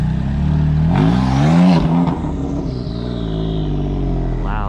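BMW 1M revs hard and pulls away from a car meet outside a shop's grand opening, a loud, close engine roar climbing then easing as it drives off.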